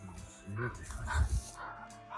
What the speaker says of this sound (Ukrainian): Спочатку хавка, але насправді дуже чемний пес.